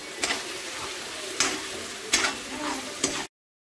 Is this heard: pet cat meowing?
no